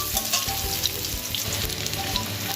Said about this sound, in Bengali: তেলটা গরম হয়ে গেছে, এর মধ্যে আমি দিয়ে রাখা আলুগুলো দিয়ে দেবো